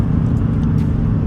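Ford Focus ST driving along a winding road, a steady, close engine and road rumble holding level throughout with no talk over it.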